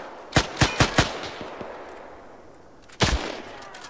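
Military video game gunfire cracks out nearby as a quick run of four sharp shots, then a couple of fainter ones, followed after a pause by a single loud shot.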